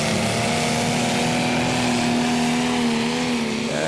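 A competition pulling tractor's engine roars at a steady, loud, near-constant pitch at a tractor pulling event in Brande, Denmark, with a slight rise in tone toward the end and no voices over it.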